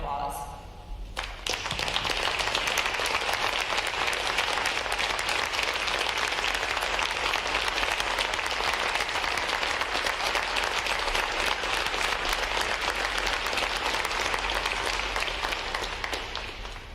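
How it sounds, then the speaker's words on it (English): Sustained, loud applause from a crowd honoring standing veterans at a recruit training command boot camp graduation, dense steady clapping filling the space for the full length after a brief quieter start. "Would all of our veterans please stand as we recognize them with a round of applause."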